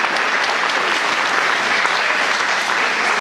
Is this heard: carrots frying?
no